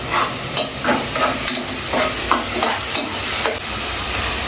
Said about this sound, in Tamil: அப்படியே லைட்டாக மீடியம் ஃப்ளேமில் தான் வச்சுருக்கேன். அப்படியே லைட்டாக வணக்கிட்டே வாங்க.